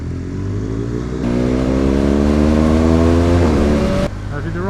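A motorcycle accelerates out of a right-hand bend during road training, its engine note climbing steadily through the gears with a loud, close, rising drone, shifting once near the end.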